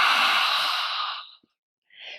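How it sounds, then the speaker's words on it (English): One long, forceful open-mouthed lion's breath exhale from a yoga practice, a breathy rushing sigh that fades out, followed by a short soft inhale. "So I'll just demonstrate lion's breath if you're not familiar with lion's breath"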